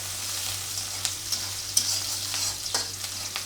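Onions fry in a pan with a constant close hiss of sizzling oil, broken by occasional sharp scrapes and clicks of stirring.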